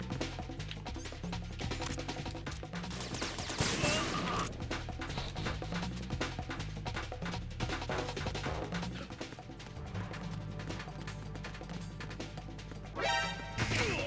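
An enemy soldier fires a shotgun in a Metal Gear game: repeated sharp blasts and crashing impacts come in bursts over dense, continuous game music and effects, loud and close.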